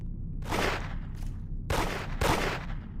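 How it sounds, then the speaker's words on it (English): Several sharp pistol shots in a video game, fired at a doppelganger inside a store, come in separate bursts, with a brief pause before the last two loud reports. "Pick up the pistol and shoot the doppelganger."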